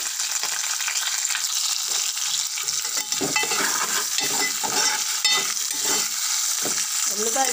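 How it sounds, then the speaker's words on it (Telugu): Onion pieces and curry leaves fry in a hot pan with a steady bright sizzle and occasional stirring clatter, close and continuous throughout. "కరివేపాకు వేసుకున్నామండి. చూడండి, ఉల్లిపాయ ముక్కలు వేసేస్తున్నాం."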